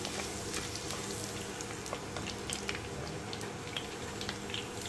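Fenugreek seeds and garlic sizzle in hot oil for a bendakai pulusu tempering, a continuous crackling fry with sharp pops and spits scattered through it, close but fairly quiet.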